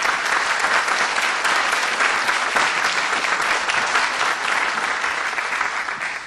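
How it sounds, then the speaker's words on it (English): Steady applause from a large crowd at a university faculty meeting fills the whole stretch, dense and continuous, easing off slightly toward the end. "Would you all give these people a nice round of applause?"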